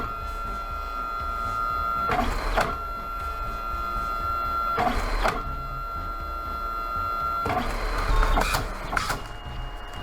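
An ASK300 photo printer runs off a 4x6 print with a steady mechanical whir, broken by three louder clunking feed bursts spaced a few seconds apart.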